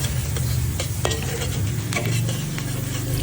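Pad thai stir-frying with shallots, tofu, dried shrimp and pork cracklings in a pan, giving a continuous close sizzle with scraping stir strokes and a few clinks of utensil on metal.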